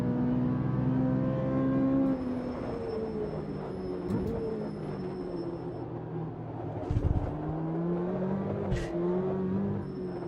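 A race car engine in Automobilista 2 at Long Beach runs at high, sustained revs near 9,000 RPM. The engine note rises and falls through gear changes, tyres scrub faintly, and there is no talk.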